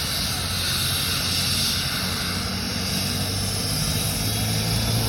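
A helicopter takes off close by, its engine and rotor giving a loud, steady roar with broad hiss that holds level throughout.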